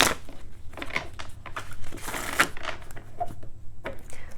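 Tarot cards being shuffled in a past-life reading, a run of crisp papery riffles and soft slaps in irregular bursts, close and fairly loud, with no voices over it.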